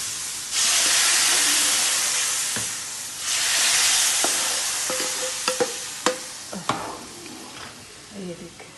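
Curry leaves and whole red chillies crackle and sizzle loudly in hot oil for tempering, in bursts, with a steady hiss and a few sharp pops and clinks toward the end.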